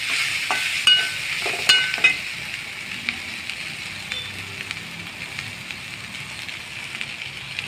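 Plantain poriyal fries gently over a low flame, a soft crackling sizzle broken by a few clinking stirs of the spoon against the pan, then settling into a quiet hiss.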